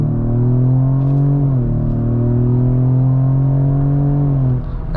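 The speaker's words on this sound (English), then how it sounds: "A small acceleration test from this EcoBoost 4-cylinder." A 2025 Ford Explorer with the EcoBoost four-cylinder accelerates onto a highway, heard from inside as a steady droning engine hum that climbs in pitch, dips briefly at a shift, then rises again, loud and continuous throughout.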